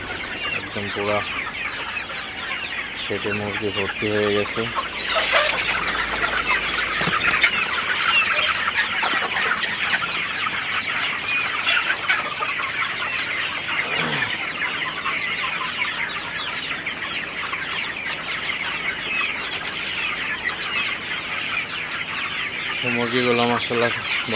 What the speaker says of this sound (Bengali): মুরগিগুলা কতটা চঞ্চল লাফালাফি করতেছে